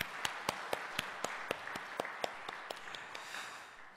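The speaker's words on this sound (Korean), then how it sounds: "우리 축하의 박수 한번 쳐드리겠습니다." A church congregation claps in a steady round of applause, sharp evenly spaced claps rising above a soft background, with no talking.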